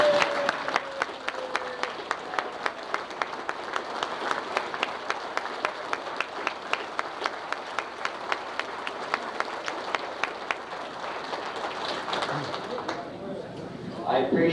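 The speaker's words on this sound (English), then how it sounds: "a stand-up ovation for Charlie Zubik." An audience at a 1992 ship anniversary gathering in Norfolk, Virginia gives a standing ovation, with steady rhythmic clapping that carries on for several seconds before tapering off, and a voice is heard near the end.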